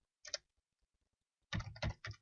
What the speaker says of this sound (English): Type in Joe